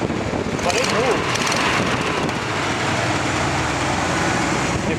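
A 1967 Buick Riviera engine runs up in a steady, loud, rough roar that holds for the whole stretch, with a voice over it.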